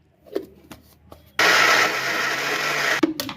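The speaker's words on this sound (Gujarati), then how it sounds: "મિક્સરમાં જારમાં નાખીને પીસી નાખીએ છીએ" After a few light knocks, a mixer grinder roars into a loud, steady whir for about a second and a half as it grinds soaked lentils with a little water, then cuts off abruptly with a clunk.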